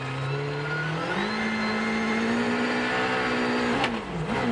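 A Citroën DS3 rally car's engine drones steadily at high revs during the 2013 Monte Carlo Rally, with a brief dip and pickup near the end as it pulls away after hitting a snow wall.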